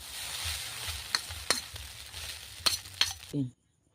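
Chowmein being stirred and fried in a kadai, a soft continuous sizzle broken by several sharp metallic scrapes and clinks of the spatula, ending abruptly in silence.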